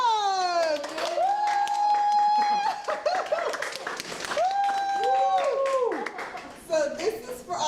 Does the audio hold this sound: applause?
yes